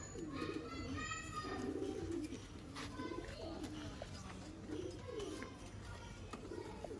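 Sialkoti pigeons coo in repeated low, rolling phrases at close range, with faint chirps and a steady background hum beneath.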